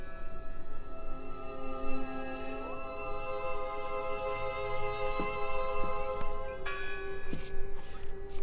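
Church bell tolling in the horror game Draugen, a resonant bell with long ringing overtones sounding repeatedly over a low ambient drone, fairly close and steady throughout, with no talking.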